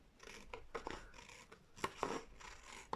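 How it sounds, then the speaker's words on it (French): Small scissors snip and rasp at paper in a series of short, quiet, close cuts, trimming the excess couple of millimetres from a mini album edge past a line of tape. "Et je vais venir recouper par en dessous avec mes ciseaux les 2 petits millimètres de trop."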